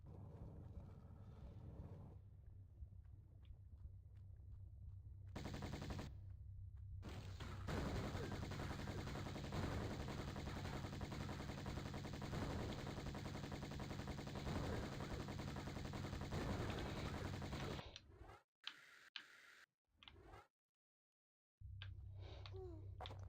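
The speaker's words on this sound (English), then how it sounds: "Time to get the Uzis out." Uzi gunfire in the video game Tomb Raider I Remastered, with long stretches of rapid dense automatic shots, then a few short bursts broken by silences.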